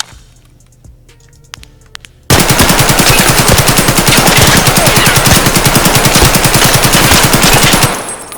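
A long, loud burst of rapid automatic fire from a starting gun in Escape from Tarkov follows a couple of seconds of quiet, with dense repeated shots for about six seconds before it stops.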